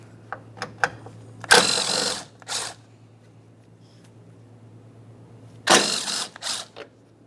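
Ratchet clicking as it loosens 5.5mm Allen head panel bolts on a 2012-2015 Honda Civic 1.8L, with two close bursts of rapid pawl ratcheting separated by scattered clicks and a quiet gap.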